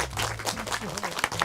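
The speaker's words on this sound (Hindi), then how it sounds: "इतनी जल्दी ताली बजा रहे हैं" A small group claps briefly in an indoor village gathering, short scattered applause mixed with voices talking over it.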